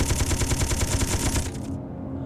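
A rapid chain of explosions from a cluster of bombs detonating in Space Engineers, a dense regular rattle of blasts lasting over a second before cutting to near silence.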